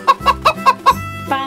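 A toy chicken clucks five times in an even rhythm, loud and close, then lets out a longer squawking note at the end.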